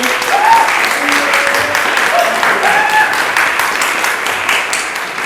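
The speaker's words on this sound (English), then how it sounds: "Can we have a round of applause for Arian and Stefan?" A conference audience gives a loud round of applause for two people, dense clapping rolling steadily and slowly thinning toward the end, with faint voices murmuring underneath.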